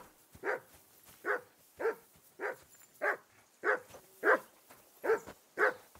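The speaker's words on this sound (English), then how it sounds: "That barking was a pain in the ass." A dog barks steadily in the medieval video game Kingdom Come: Deliverance II, nine evenly spaced single woofs about two-thirds of a second apart, moderately near and clear over a quiet background.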